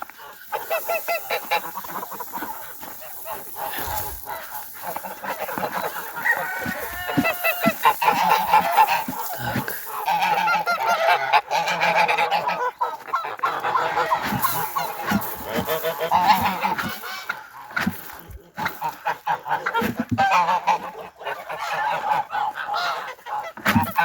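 Farm geese and ducks honk and quack in a loud, dense, continuous chorus close by, overlapping calls filling the whole stretch with no talk.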